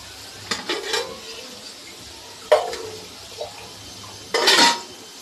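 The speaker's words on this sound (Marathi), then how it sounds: "थोडंसं पाणी टाकणार आहे मी" Water poured in small splashes into a frying pan holding chicken masala, giving short bursts of hiss and sizzle with quiet pauses between, close and moderately loud, without talk.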